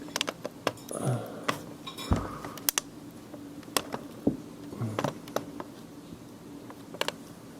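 A pocket knife prying the small screw cover off an HP Pavilion DM4 laptop bezel, making scattered light clicks and scrapes, close and fairly quiet, with a voice speaking briefly.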